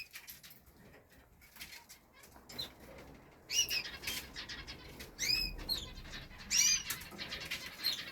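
Canaries splash and flutter their wings in bathwater, quick bursts of flapping with occasional high chirps, nearby and moderately loud.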